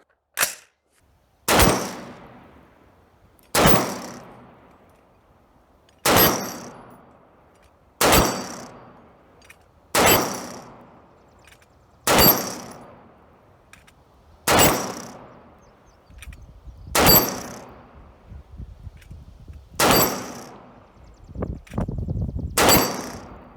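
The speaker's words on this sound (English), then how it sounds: "let's give this a whirl, and we're going to see how many shots it's going to take to get this to spin over" Ten sharp 7.62x39 AK rifle shots ring out at steady intervals of about two seconds, each followed by a metallic clang and decay as rounds strike a spinning steel target outdoors; the last few come with rattling and clattering as the target turns over.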